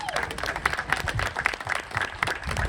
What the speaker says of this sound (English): Can we get one more big round of applause for Larry Elder?